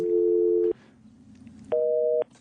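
A telephone line gives a disconnected-number tone, two loud, steady electronic tone bursts of about half a second each with a gap of low line hiss between them, and no voices.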